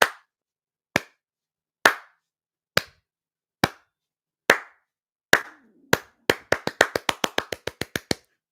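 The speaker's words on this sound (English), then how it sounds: "do do your monologue according to the rhythm that I'm going to clap out" A pair of hands clapping out a rhythm, sharp single claps spaced about a second apart, then speeding up into a fast run of quick claps at the end, close and alone.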